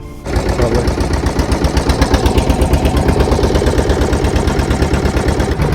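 Motor boat on the Krishna river near where it meets the sea, its engine chugging loudly and close in a fast, steady rhythmic putter throughout.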